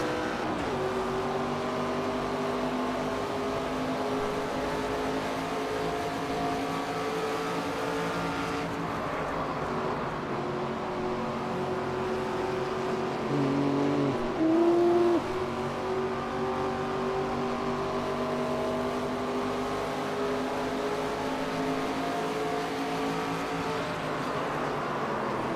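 Race car engines in the NASCAR 25 video game drone steadily and loudly throughout, with pitch shifts as cars jostle for position, a brief louder surge midway, and no talk over it.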